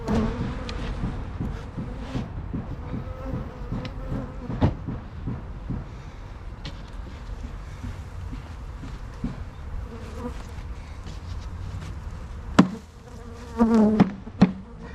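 Honeybees drone in a dense, continuous buzz around their hives, close and steady throughout, with a few sharp knocks near the end as a louder bee passes.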